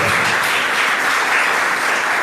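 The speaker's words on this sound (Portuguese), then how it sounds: "dar uma salva de palmas bem gostosa para o Senhor" A church congregation breaks into dense, sustained applause during a worship service, a continuous loud wash of many hands clapping at once with no pauses.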